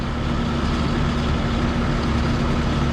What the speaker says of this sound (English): Grain truck going up the road.